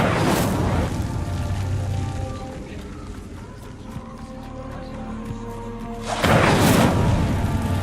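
An Incendio fire spell cast in Hogwarts Legacy bursts with a loud whooshing roar, then a low rumbling ambience with a second burst of flame near the end, dense and full over the whole stretch.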